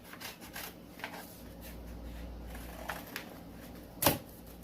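A blade cuts a vinyl sheet into small squares, with light scratchy scraping and rubbing strokes under quiet room tone and one sharp louder snip or thump near the end, close by.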